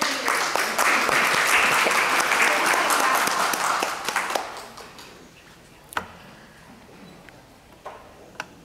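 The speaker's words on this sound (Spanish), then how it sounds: "Un aplauso." At a book launch, a crowd bursts into loud applause that fades out after a few seconds, leaving only scattered claps and taps in a quiet room.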